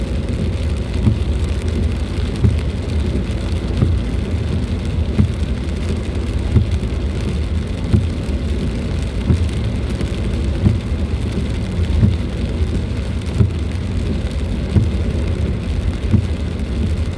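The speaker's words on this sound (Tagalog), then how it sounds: "Mahina lang yung ulan guys, pero para ang liliit ba?" Steady light rain patters continuously, a soft even hiss with scattered drops, with no voices.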